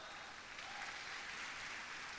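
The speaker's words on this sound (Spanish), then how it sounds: "un aplauso al Señor" A church congregation claps steadily throughout, a dense, even wash of applause with no voices above it.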